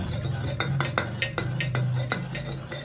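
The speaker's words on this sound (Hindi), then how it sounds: "दाल स्मैशर से दाल को अच्छा स्मैश कर लेना चाहिए" Cooked dal for South Indian sambar being mashed with a dal masher in a pot: close, steady rhythmic clacks and squelches, about seven or eight strikes in quick succession, over a low continuous background hum with no talking.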